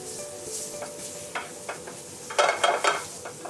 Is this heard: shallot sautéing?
yes